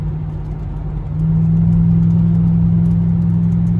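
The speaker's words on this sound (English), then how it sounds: "it's got a great exhaust note" A 1957 Ford F250 pickup truck engine runs with a deep, steady exhaust rumble that grows louder and fuller after a second, holding a low drone throughout.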